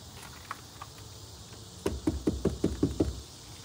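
Knocking on a wooden vault door in a cemetery: a few light isolated taps, then a run of about eight firm, evenly spaced knocks, close and clear with no talking.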